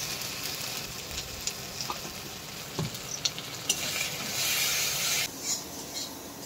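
Garlic and spices frying in hot oil for a Bengali chicken curry, a steady sizzle with brief clinks and stirring scrapes, louder and hissier near the end.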